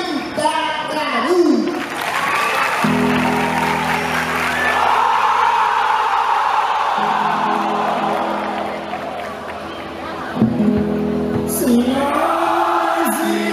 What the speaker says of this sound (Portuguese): Vamos receber com aplausos a quadrilha de linha